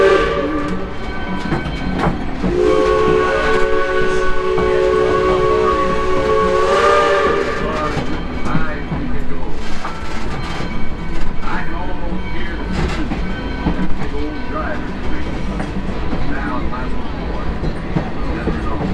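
A train whistle sounds in sustained tones near the start as a passing train rumbles and clatters steadily, with music and singing voices layered over the top.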